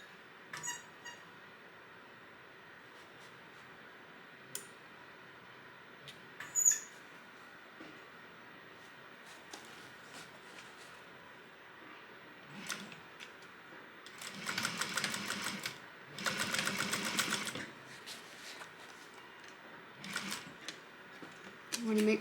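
Sewing machine stitching the corner of a crossbody bag in two loud, dense bursts of rapid stitching after quieter handling clicks and light talk.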